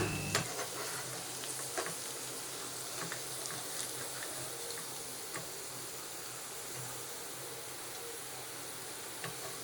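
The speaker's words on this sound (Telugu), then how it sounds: "మిగిలిన వాటిని కూడా సేమ్ ఇదే విధంగా ఫ్రై చేసుకోవాలండి" Crispy corn pieces fry in hot oil with a steady, even sizzle and hiss and a few faint clicks of stirring, close and constant for about ten seconds without talk.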